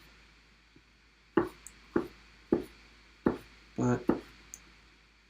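A knife slices vegetables on a cutting board in about six crisp, evenly spaced chops, close and clear, with a brief murmur of a voice in the background.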